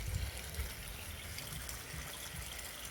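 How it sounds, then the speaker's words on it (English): Water trickles steadily from a Bakki shower spillway into a garden fish pond, a soft continuous wash of falling water with low burbling, heard close and without talk. "it's trickling in nice, just as it should be"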